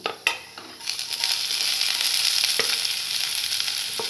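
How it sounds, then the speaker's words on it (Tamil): Mustard seeds, chana dal, urad dal and chopped shallots frying in hot oil in a pan, a steady loud sizzle with a few sharp pops and crackles near the start. "கடுகு நல்லா பொரிஞ்சதுக்கு பிறகு கடலை பருப்பு, உளுத்தம் பருப்பு, கட் பண்ணி வச்சிருக்க சின்ன வெங்காயம்,"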